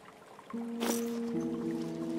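Water trickling and flowing in Winter Survival as water is gathered from broken ice, a soft splash followed by a steady tonal hum, quiet and close.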